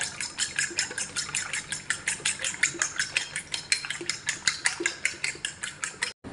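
A whisk or fork beats cracked eggs in a bowl for shakshuka, a steady rapid series of close metallic clicking strokes against the dish, repeating evenly for several seconds before stopping abruptly.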